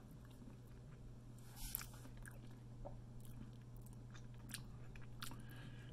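Quiet, close chewing and a few soft crunchy bites while tasting hazelnut spread, faint against a steady low hum, with small wet mouth clicks scattered throughout.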